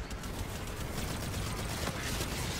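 Rapid gunfire in a first-person shooter video game, a dense continuous burst of shots filling the whole stretch at steady loudness with no talk over it.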